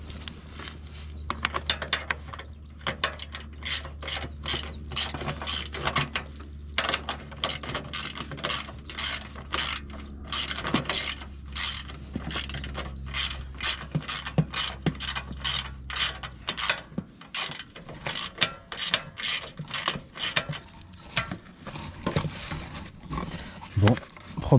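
A ratchet wrench working a bolt on a GGP Castelgarden SD98 lawn tractor during a cutting-belt replacement, rapid clicking in bursts over a low engine-like hum that stops partway through.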